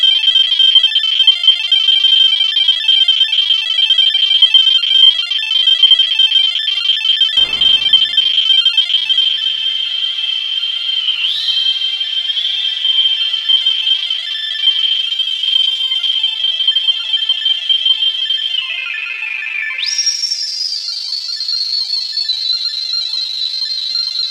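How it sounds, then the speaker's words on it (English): A continuous tone synthesized in Serum warbles and buzzes with glitchy pitch jumps and steps, shifting higher near the end, loud and unbroken throughout. "Make some cool computer noises."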